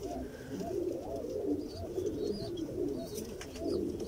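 A pair of breeding pigeons cooing nearby, repeated soft throaty coos rolling in a loose rhythm over a low background hum.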